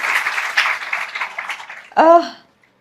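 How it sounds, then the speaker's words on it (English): An audience at a talk show claps in a dense burst of applause, then a voice briefly cuts in as the clapping fades out. "So guys, a round of applause for that"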